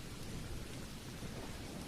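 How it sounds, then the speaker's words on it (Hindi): Heavy rain pours steadily with deep rumbling thunder underneath, a dense, constant storm roar throughout with no voices. "बारिश तेज हो रही थी"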